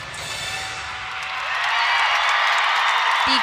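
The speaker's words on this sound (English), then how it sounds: "The crowd has erupted." A crowd of thousands erupts in loud cheering and applause at a college gymnastics meet after a floor routine, a dense roar that swells and holds without letup.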